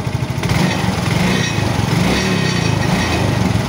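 A motorcycle engine, just restarted during an electrical ground-signal check, runs loud and close with a steady buzzing drone as the throttle is opened, its pitch holding high and even through the whole stretch.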